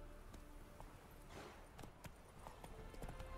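Hooves of Roach, the horse in The Witcher 3: Wild Hunt, clip-clopping at a brisk pace, a steady run of quiet, even hoof beats against faint background ambience.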